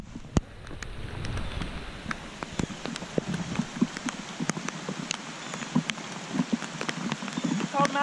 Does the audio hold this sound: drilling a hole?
no